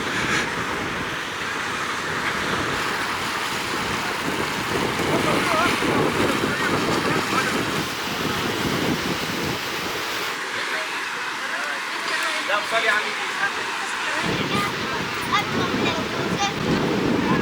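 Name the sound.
strong wind at the seaside at La Goulette, Tunis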